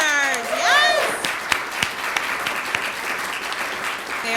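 A high whistle and whoop open lively applause for award winners at a tech showcase event, followed by scattered, tapering claps with some crowd voices underneath.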